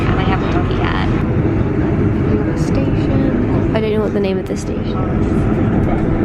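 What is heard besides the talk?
train running on rails to Exeter St David's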